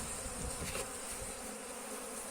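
Honey bees buzz at an open beehive on a cool day, a dense, steady drone of many insects close by with no talk over it.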